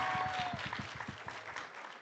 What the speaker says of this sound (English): You can, the table like this, drum rolls.